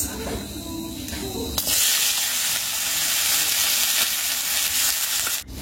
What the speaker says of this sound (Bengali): মূলা ভাজাতে প্রথমে পেঁয়াজ আর কাঁচা লঙ্কা দিয়ে একটু কালো জিরা ফোড়ন দিয়ে বসিয়ে দিলাম